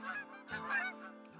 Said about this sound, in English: There's geese right over here. That's why. I was like, why is it so loud here?